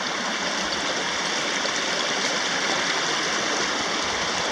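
Canyon Creek near Three Fingered Jack in Oregon's Cascades rushes close by in a steady, full broadband wash of flowing water, unbroken and with no voices.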